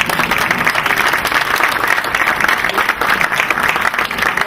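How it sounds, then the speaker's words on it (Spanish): Loud, sustained applause from a conference audience thanking a panel, dense overlapping clapping that stays even and close for the whole stretch. "Les vamos a dedicar un aplauso"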